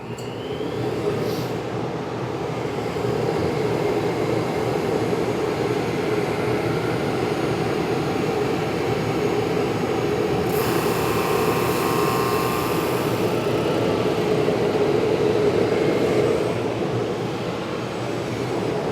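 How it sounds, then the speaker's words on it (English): A large sanding machine runs with a continuous loud mechanical roar and grind as a live-edge wood slab passes through, holding steady for a long stretch with no talking. "we'll get it sent through the sander here"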